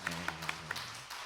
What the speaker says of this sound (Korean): 오늘도 다시 한번 크게 박수하며 환영할까요?